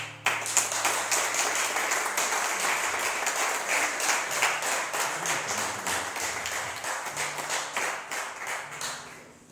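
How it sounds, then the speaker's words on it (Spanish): A church congregation applauds a guest preacher standing in for the pastor, a dense wave of many hands clapping in the hall that stays steady, then thins and fades toward the end, with some sharper individual claps. "Recibámoslo con un aplauso."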